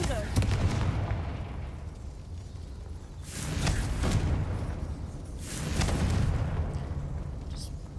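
Confringo fire spell blasts in the Hogwarts Legacy game: two booming explosions roll out over a constant rumbling game backdrop, each swelling and fading over a couple of seconds.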